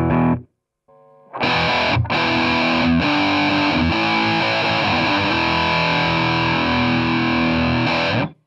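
An electric guitar plays through a Boss Metal Zone anniversary distortion pedal, producing heavily saturated, buzzy chords and sustained notes, loud and close, after a brief quiet start and with short gaps between strums.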